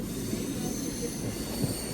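A train runs along the line near Katpadi Junction with a continuous loud rumble and a high metallic wheel squeal that hold steady throughout, close by.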